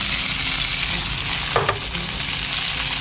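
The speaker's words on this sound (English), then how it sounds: "This side I usually put a little fry pan on top and do our fried eggs in" Eggs sizzle in a small frying pan on a compact camp stove in a van, a continuous close hiss with a brief scraping stir midway.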